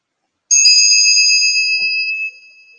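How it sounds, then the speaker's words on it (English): A single bell strikes and rings out with a clear, bright tone, sustaining for nearly two seconds before fading. No voices. "Ringing the bell, calling it to an end."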